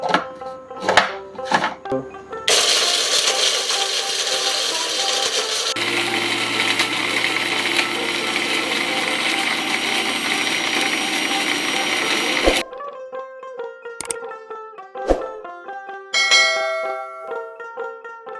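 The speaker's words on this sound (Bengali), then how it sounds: "এগুলো দিয়ে এবার আমি গ্রাইন্ড করে নেব।" An electric grinder grinds asafoetida, dried mint and cornflour into a sabji masala spice mix. It gives two loud, steady whirring runs of about ten seconds in total, set between clinks and knocks of the jar and lid.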